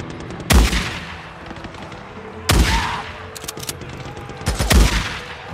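Gunfire in the zombie-horde game Days Gone, heard as three loud separate shots about two seconds apart, each a sharp crack with a brief decay over steady game ambience.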